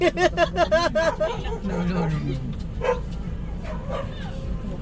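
Dog barking in a quick run of sharp, loud barks up close, then a high whimpering yip, with people talking and a murmur of voices in the background.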